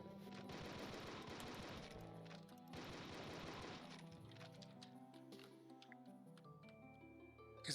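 Rapid bursts of automatic gunfire from shooting enemies in the video game Sludge Terminal, two sustained volleys followed by scattered clicks and pickups, quiet and alone.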